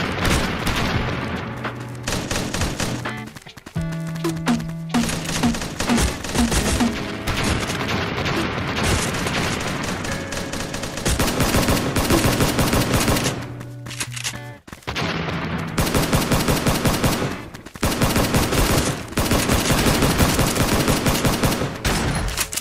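Gunfire from a weapon in the video game Fortnite: dense, loud, continuous bursts of rapid shots and booms running throughout, with brief dips near the middle, no voices over it.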